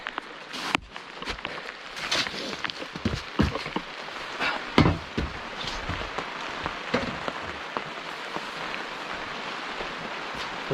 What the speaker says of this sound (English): Now it's raining out.